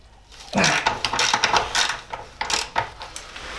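A ratchet works loose the bolts on a Classic Mini's rear suspension, giving a run of quick metallic clicks in uneven bursts, close and fairly loud, with no talking.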